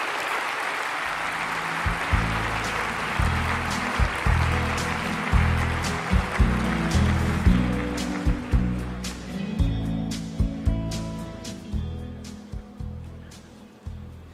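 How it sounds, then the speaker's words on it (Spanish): Auditorium audience at a business forum applauding a guest interview subject, a sustained wash of many hands clapping that fills the room, steady and fairly loud throughout with a low rumble beneath. "Le pido un aplauso, por favor, a todo este auditorio para él."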